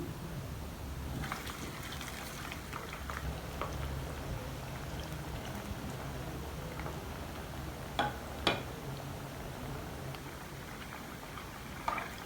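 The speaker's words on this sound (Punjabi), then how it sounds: "ਇਸੇ ਤਰ੍ਹਾਂ ਹੀ ਅਸੀਂ ਆਲੂ ਜਿਹੜੇ ਹਨ ਇਹਨਾਂ ਨੂੰ ਫਰਾਈ ਕਰ ਲੈਣਾ" Potatoes frying in oil, a soft continuous sizzle with scattered ticking pops and a few sharper crackles, moderately quiet and steady throughout.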